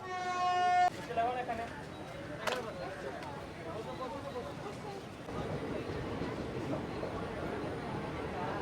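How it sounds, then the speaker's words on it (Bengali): A train pulls out of platform 1 at Pakur station in Jharkhand. A short, tonal horn blast opens the sound, followed by a steady, low rolling rumble of wheels and carriages that grows slightly. "তাড়াতাড়ি কিন্তু ট্রেন ছেড়ে দিল"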